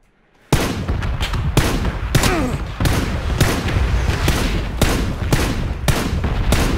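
Repeated gunfire in the battle royale game PUBG: loud, sharp shots arrive in irregular bursts roughly every half second to second, some close and heavy, over a steady background of game noise with faint voice underneath.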